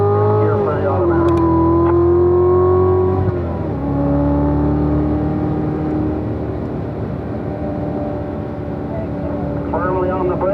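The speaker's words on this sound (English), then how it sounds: "as we come off the corner, squeeze on the throttle and work your way up through the gears" A car accelerates hard on the Spring Mountain racetrack, its engine note rising and dropping as it shifts up through the gears, loud and close throughout, with a voice talking over it.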